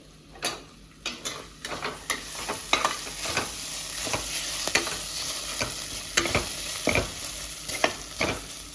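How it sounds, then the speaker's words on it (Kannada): Chicken masala and garam masala fry in a pan, with a steady close sizzle broken by repeated sharp scrapes and clicks of stirring, and no talking. "ಅದು ಒಂದು ಸ್ವಲ್ಪ ಫ್ರೈ ಆಗಲಿ"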